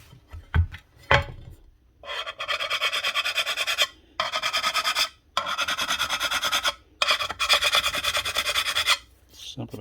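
A hand file rasps across a burr on a router table in repeated steady strokes, grouped into several bursts separated by short pauses, close and fairly loud, with a few knocks at the start.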